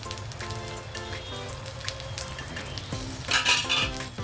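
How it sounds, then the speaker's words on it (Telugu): Cumin, mustard seeds and other tempering spices sizzle and crackle in hot ghee, steady frying hiss with a spoon clinking against the pan and a brief louder spatter near the end. "నేను నెయ్యి వేసి తాలింపు చేసుకుంటున్నాను"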